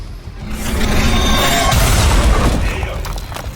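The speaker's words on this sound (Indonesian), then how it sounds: "Itu meledak" An explosion in the video game Marvel's Midnight Suns: a loud, close boom with crackling debris that swells and holds for a few seconds before easing off, with no talk.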